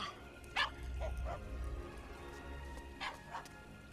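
A small dog in the animated film Anastasia gives a few short, sharp yips and barks, spaced apart over a quiet low background.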